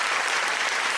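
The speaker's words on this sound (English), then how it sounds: "Round of applause for Dame Dash on this one" Brief burst of audience applause for Dame Dash on a talk show, dense clapping from many hands filling the whole moment at a steady, fairly loud level.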